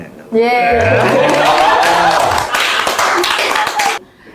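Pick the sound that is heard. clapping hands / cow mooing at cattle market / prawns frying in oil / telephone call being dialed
clapping hands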